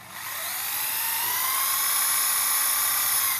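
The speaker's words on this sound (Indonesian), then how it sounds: "Sekarang saya menggunakan bor apa sih namanya ini, pokoknya bor seperti inilah teman-teman." An electric drill enlarges the hole in a jet nozzle for a 2-inch Apolo well pump, giving a steady, high-pitched whine that swells over the first half second and then holds loud and unbroken, with no talking.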